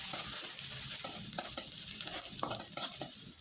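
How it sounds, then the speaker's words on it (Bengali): Chopped onion, garlic, ginger and green chili sizzle steadily in a pan while a utensil stirs them with soft repeated scraping knocks, close and continuous with no talk. "এবার খুব ভালোভাবে একটু নেড়ে চেড়ে নিব।"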